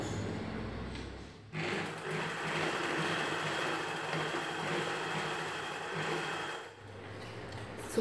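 A sewing machine stitches salwar dress cloth, running in a steady, continuous mechanical whir for several seconds with short pauses at the start and end, close and clear with no talking.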